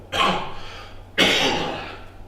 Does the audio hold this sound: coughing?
yes